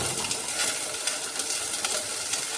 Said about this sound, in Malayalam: ഇനി നമുക്ക് തോരത്തിനായിട്ട് സവോള അരിഞ്ഞത് ഇട്ടെടുത്താണ്.